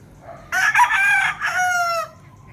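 A fighting rooster crows once, up close and clear, a ringing call of about a second and a half rising and then trailing off, with faint background noise around it.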